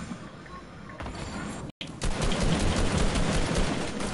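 Rapid video-game gunfire bursts over a dense, noisy backdrop, cutting out briefly before resuming louder and sustained.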